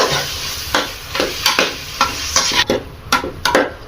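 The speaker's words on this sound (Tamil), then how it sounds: "புதினா போட்டு இப்போ இதையும் நல்லா வதக்கணும்." Mint leaves sautéed in a pan for biryani, a close, brisk series of scraping stirs at a regular pace over a light sizzle.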